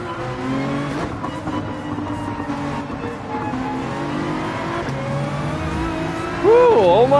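A race car engine in Gran Turismo 7 drones loudly and steadily, climbing and falling in pitch as it revs through the gears, ending with a sharp swooping rise near the close.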